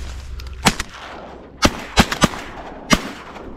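Shotgun blasts while duck hunting in Louisiana, about five sharp loud reports spaced irregularly across a few seconds, some close together, over low outdoor background.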